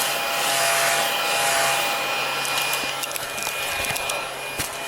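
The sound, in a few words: vacuum running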